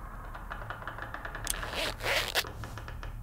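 A tent zipper pulled open in a horror video game, one long rasping zip in a couple of quick strokes over a low steady hum, fairly close and alone.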